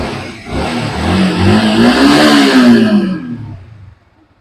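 A Yamaha R15 version 1 motorcycle engine revs up, its pitch climbing and falling in one long rising whine, then cuts off abruptly to near silence.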